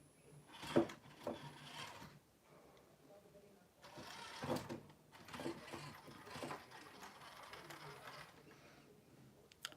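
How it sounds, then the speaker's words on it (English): Small electric winch motor on an RC Trail Rider 570 model truck, dragging it across a desk: faint, whirring, gear-driven buzz in several short bursts separated by pauses. "It has a working winch. So the winch actually works."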